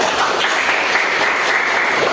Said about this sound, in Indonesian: tepuk tangan nak